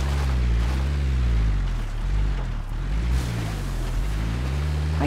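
A waterfall in the game Rust, a steady broadband rushing of water with low rumbling undertones, loud and continuous throughout.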